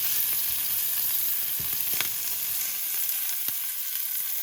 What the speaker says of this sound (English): So I'm just warming the chicken up really quick.